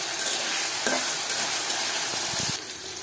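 Cinnamon, cardamom and two bay leaves hit hot onion-laced kebab-frying oil, giving a steady close sizzle with a brief sharper crackle near the start, a few stirring knocks, and a slight drop in level toward the end.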